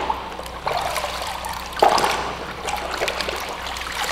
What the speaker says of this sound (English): I'm just going to basically rinse this part by shaking it